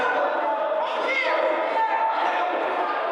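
A basketball crowd at a women's college semifinal roars and whoops continuously at a steady, loud level, with shouts rising through the middle; a commentator talks over it.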